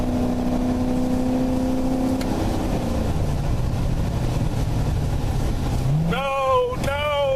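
A 2015 Chevrolet Corvette drives along an open road, its engine droning steadily under heavy road and wind rush, pitch sliding down before a quick rising rev near the end.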